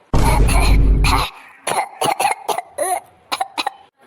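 Harsh, loud coughing and throat clearing from someone who has just been poisoned with tainted food: a dense burst of hacking at first, then a run of shorter, separate coughs and gasps that trail off.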